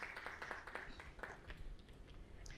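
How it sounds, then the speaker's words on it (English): Audience applause at a preschool franchise launch event, very faint, steady clapping from many hands that softens toward the end, with no talking over it. "A big round of applause to sir."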